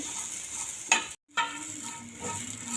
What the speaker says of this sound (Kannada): ಇದನ್ನು ಕೈಯಾಡ್ಸ್ತಾನೆ ಇರ್ಬೇಕು ರೀ ಅಂದ್ರೆ ಕ್ರಿಸ್ಪಿಯಾಗಿ ಫ್ರೈ ಆಗ್ತವೆ ಬೀನ್ಸ್